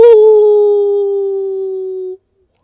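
A person imitates a wolf with one long, steady howl, held loud and clear for about two seconds before stopping abruptly.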